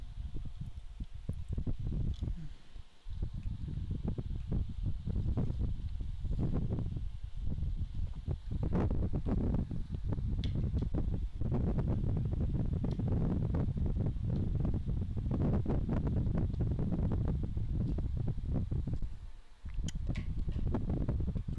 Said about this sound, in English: I do have a fan blowing on me.